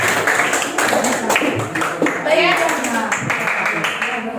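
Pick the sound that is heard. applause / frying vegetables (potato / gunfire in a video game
applause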